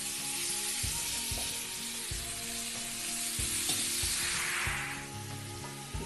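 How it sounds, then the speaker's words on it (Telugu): Chicken pieces for a spicy mango chicken curry sizzle loudly in a hot pan with cashews, a steady close frying hiss broken by repeated scraping stirs, no voices. "చికెన్ వేసి బాగా కలపాలండి."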